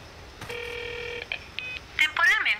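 A telephone keypad in the Jurassic Park Trespasser video game sends a steady dial tone followed by a quick series of dialing tones, with a short burst of electronic beeps at the end.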